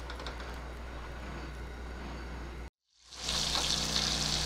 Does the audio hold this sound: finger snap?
no